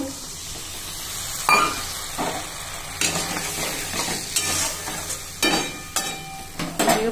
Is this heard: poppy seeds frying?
yes